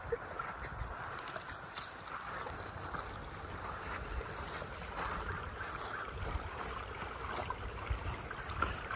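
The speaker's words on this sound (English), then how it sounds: "I cleaned the stream a week or so ago. It's flowing really nicely." A small backyard stream, recently cleared, flows in spring with a steady, close, broadband rush of water that runs unbroken for the whole stretch, with no voices over it.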